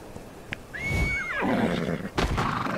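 An Equus horse in the survival game Ark Survival Evolved lets out a single loud whinny that slides down at the end, with hoof thuds and movement sounds around it.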